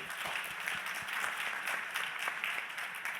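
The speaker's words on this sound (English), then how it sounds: "I think we can applaud, really" Faint audience applause at a plenary session on low-carbon healthcare, a soft, continuous patter of clapping from a seated crowd, heard from a distance.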